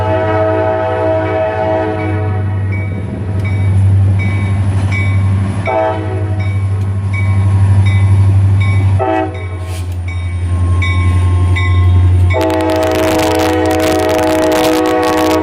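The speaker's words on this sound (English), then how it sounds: "A road slug and mother set leads this train around the curve." A freight train led by a road slug and mother locomotive set rounds a curve on Butler Street in Hamilton, Ohio, its steady diesel rumble loud and close while the horn sounds several sustained blasts, with no voices.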